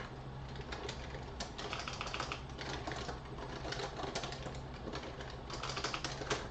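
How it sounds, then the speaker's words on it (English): Continuous clattering of keys on a computer keyboard, a steady stream of quick irregular taps held at a moderate level over a constant background hum. "I need my keyboard in order to do that."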